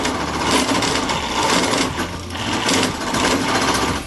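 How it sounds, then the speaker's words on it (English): Skew chisel cutting a tenon into wood turning on a lathe, a loud, steady, close whirring scrape that rises and falls gently in intensity, with no speech. "When I have the right diameter, I make the tenon with a skew chisel."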